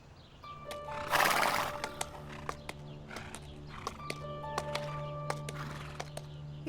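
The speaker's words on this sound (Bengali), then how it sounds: "ঘোড়াটা চুরি করছে" A horse neighs loudly once in a long whinny, then hooves clip-clop at an irregular pace nearby.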